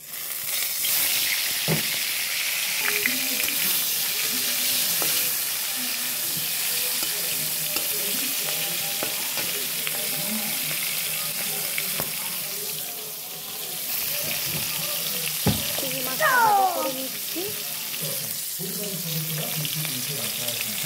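Prawns frying in hot oil in a wok give a continuous close sizzle, with clinks and scrapes of stirring and a brief watery trickle partway through; no one speaks.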